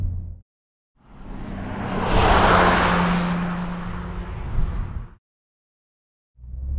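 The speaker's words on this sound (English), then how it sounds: "I really love the kind of the sound of these BMW straight six engines as well" A BMW S58 straight-six engine revs up from silence, rising into a loud, sustained roar for a few seconds before cutting off abruptly.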